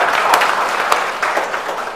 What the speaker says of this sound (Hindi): एक बार अपने बच्चों के लिए ताली बजा दीजिए